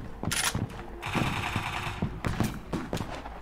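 A light machine gun fires in a war video game set at the Battle of Dien Bien Phu, rapid close bursts of shots with sharp cracks, mixed with continuous battle noise and explosions.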